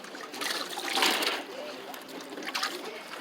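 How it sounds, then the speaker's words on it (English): Water splashing at a fishing pier in Kona during akule hand-pole fishing, a few irregular splashes and dribbles swelling around the middle and again near the end, close by under outdoor background noise. "Hey, who's splashing me back there?"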